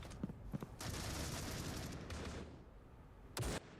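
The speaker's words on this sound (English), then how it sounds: "Myline popping some warning shots there" Gunshots in a competitive video game battle at a global esports tournament, a few sharp isolated cracks followed by sustained rapid fire, then a final loud burst, all close and without talk.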